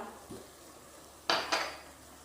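Two quick metallic scrapes and clanks of a utensil against a pan while stirring a Thai pork skin salad mixture fragrant with galangal, lemongrass and kaffir lime leaves; otherwise quiet, no talking.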